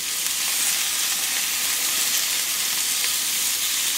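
A breaded parmesan dish frying to golden brown in hot oil gives a loud, dense, continuous hissing sizzle that holds steady throughout, with no voices.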